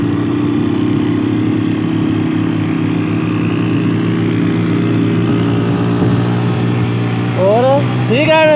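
Motorcycles riding past through snow in Toli Pir, Bagh, Azad Kashmir: a steady, loud engine drone holds throughout, and a voice speaks briefly near the end.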